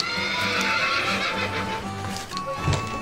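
A horse whinnies loudly while hooves clip-clop steadily nearby, with a brief thump near the end, in an old Western movie scene.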